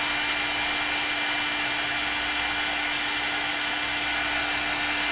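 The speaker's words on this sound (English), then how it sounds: "it just goes through and it melts that embossing powder" A heat tool blows steadily and closely while melting embossing powder on a craft card, a constant airy whoosh with a faint hum running unchanged throughout, no voices.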